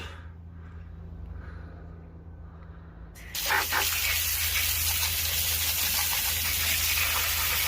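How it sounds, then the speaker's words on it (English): A hose sprays water over old-school BMX parts from a Raleigh Wolf freshly out of an acid bath, a steady loud broadband gush starting abruptly partway in after a quieter stretch and running on continuously. "So I'm just giving these parts of hose down now they've come out of the acid bath."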